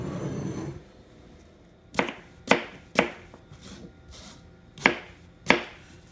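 A knife chops peeled apples into small half-inch cubes on a cutting board, six crisp, sharp cuts at uneven intervals, close and clear, with quiet pauses between them.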